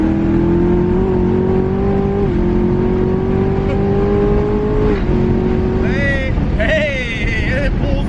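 A twin turbo Camaro ZL1 engine on a dyno during a full pull, very loud and close, its drone climbing steadily in pitch and then a brief lift and whine from the turbos near the end.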